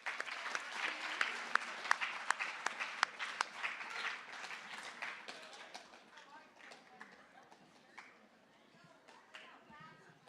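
A junior high academic awards audience applauds the winners: brisk, lively clapping that is strongest at first and slowly tapers off, with voices faintly under it.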